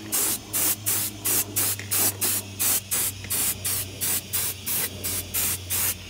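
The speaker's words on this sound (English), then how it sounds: "we're gonna hit it with this Moose Lick silicone spray" Moose Lick silicone spray is applied to a Traxxas X-Maxx RC truck clone in rapid, even bursts, about a dozen short hissing sprays in steady rhythm, close and loud with no talking.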